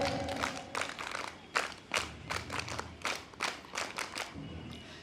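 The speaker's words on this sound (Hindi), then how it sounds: "ताली बजा।" Children clap their hands at an outdoor Independence Day celebration, a run of uneven, scattered claps in quick bursts, moderately close and fairly quiet, with no talking over them.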